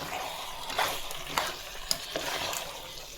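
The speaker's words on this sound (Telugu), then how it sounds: "చికెన్ని ఒక 2 నిమిషాలు మసాలాతో పాటు ఫ్రై కానివ్వండి" Steady sizzling of chicken frying with masala in a pan for biryani, with a few sharp stirring scrapes and crackles, close and fairly quiet.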